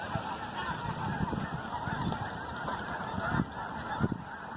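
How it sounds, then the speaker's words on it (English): A large flock of geese at a bird sanctuary honks loudly and constantly, many overlapping calls forming a dense, noisy chorus with sharper individual honks breaking through. "and a whole lot of geese."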